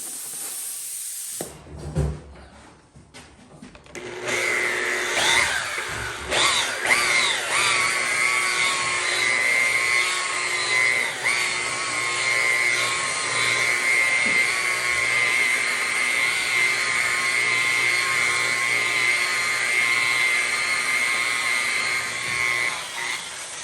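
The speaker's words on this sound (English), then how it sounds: "I'm running the drill bit backwards to do that." A power drill runs its bit in reverse against a pinball playfield, a steady whining motor hum that holds for about twenty seconds after a few short starts and clunks, near and alone.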